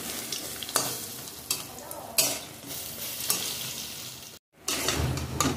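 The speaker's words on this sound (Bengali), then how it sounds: "বড়াগুলো একটু সুন্দর ভাজা হয়ে গেছে, উল্টিয়ে দেবো।" Fritters (bora) sizzle in hot oil in a pan, a constant frying hiss broken by several sharp scrapes and stirs of a spatula, with a brief dropout near the end.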